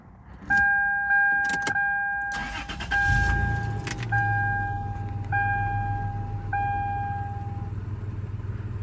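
The 3.4-liter V6 engine of a 2001 Toyota 4Runner SR5 Sport Edition cranks and catches, settling into a steady low idle, with repeated electronic chimes sounding throughout.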